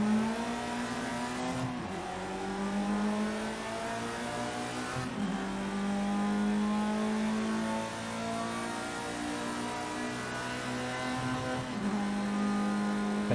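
Open-wheel race car engines roar and whine steadily in the Project Cars 2 video game during a Formula Rookie career race, with pitch sweeping up and down through gear changes and several abrupt shifts, loud and continuous.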